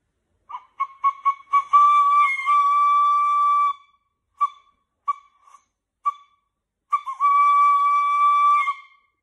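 A tin whistle sounds a series of short tongued notes, then a long held tone, scattered brief toots, and another burst ending in a sustained note.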